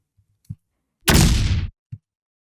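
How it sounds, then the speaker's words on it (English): A library explosion sound effect bursts in as one loud, dense blast lasting about half a second, with broad rumbling body, set between a few faint low thumps before and after. "This is just an explosion that I use from another library."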